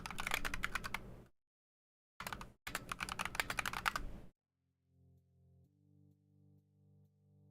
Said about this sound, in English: Ton of pain, one-handed typing.